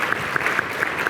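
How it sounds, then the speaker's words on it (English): Audience applause at a business conference venue, a short steady burst of many hands clapping together, dense and even, with no voices over it. "A round of applause for that"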